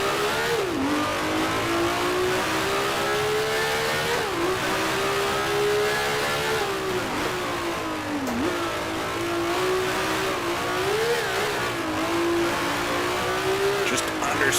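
A race car engine in the Grand Prix Legends video game drops through the gears, a loud continuous whine that blips and dips with each downshift over about fifteen seconds, with a voice talking over it.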